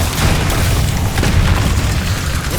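A Bombarda explosion spell goes off in the Hogwarts Legacy video game, a heavy rumbling boom that fills the whole moment loudly with no pause.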